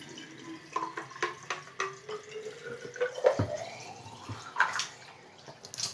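Water from a small bottle trickles and splashes into a homemade geocache tube, with intermittent drips and a rising pour near the middle, close and fairly quiet.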